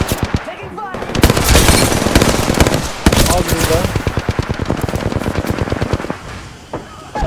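Rapid bursts of automatic gunfire crackle through a video game shootout, dense rattling volleys with brief pauses, loud and close, while players talk over the shooting.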